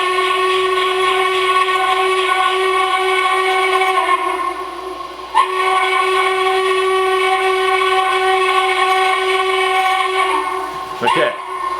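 A Bachmann 0-4-0 side tank Porter model locomotive with a sound card and battery conversion gives off a steady, loud, whistle-like tone that breaks briefly midway and ends with a short chirp.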